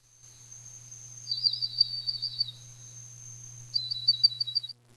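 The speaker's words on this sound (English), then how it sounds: "Oh, birds." Birds sing outdoors in two repeated high phrases, each a steady whistled note followed by a quick trilled flutter, faint and clear over a low steady hum.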